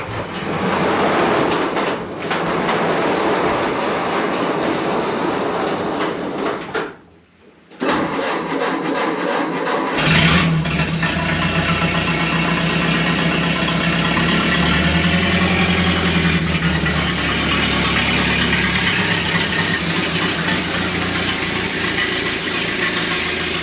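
Period-correct hot rod truck engine on a drive, a steady loud rumble with road and wind noise throughout, a brief dip, then a heavier, fuller drone.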